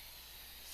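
Baker's Joy baking spray hisses from its can onto a glazed stoneware platter in one short, steady, close burst with no voices.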